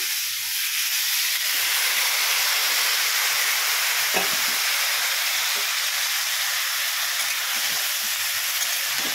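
Dried red chillies, green chillies and tomato pieces fry in hot oil in a pan for tomato pickle, a steady loud hiss and sizzle running throughout with a few faint clinks.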